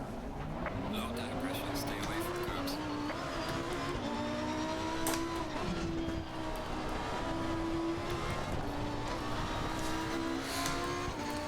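Lamborghini Huracan ST Evo2 racing at Spa in Assetto Corsa Competizione, a continuous loud engine drone rising and falling through gear changes, steady and close, with someone talking over it.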